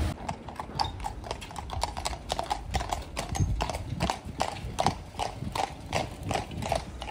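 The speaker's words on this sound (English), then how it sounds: "Look, horse and carts." Horse-drawn carts clip-clop along a road, a steady, fairly close run of hoof strikes alone with no talk.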